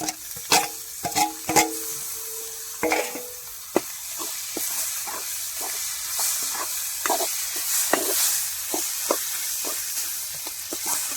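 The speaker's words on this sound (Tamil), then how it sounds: "அதுக்கப்புறம் வெட்டி வச்சிருக்க தக்காளியை போட்டுக்கலாம்" Chopped tomatoes hitting hot oil in a pan for egg curry, with a sizzle and hiss under repeated clinks of a spoon stirring against the pan. The sound is close and fairly loud.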